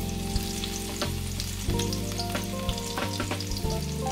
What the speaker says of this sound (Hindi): ये हमारा ऑयल गर्म हो चुका है, अब हम इसमें डाल देंगे सबसे पहले लहसुन।